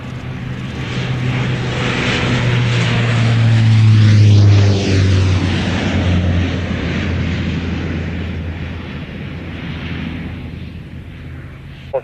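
A military jet takes off at the Royal International Air Tattoo, a loud roaring engine that swells to a peak as it passes and then slowly fades into a distant rumble.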